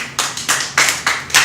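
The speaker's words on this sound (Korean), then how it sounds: "박수 한번 합시다." Church congregation clapping in a handful of distinct, loud unison bursts, about five sharp rhythmic claps close by with no talking.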